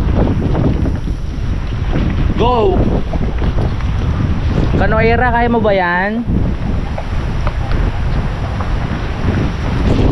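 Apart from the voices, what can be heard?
strong wind on a boat at sea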